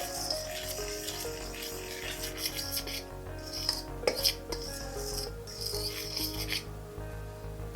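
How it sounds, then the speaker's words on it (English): A fork mixing flour, sugar and salt in a bowl for shortbread bars, heard as a continuous close-up gritty rubbing and scraping with brief clinks of metal against the bowl, fairly quiet and without talk. "before we add the butter I'm gonna add the sugar, salt, and mix it very well."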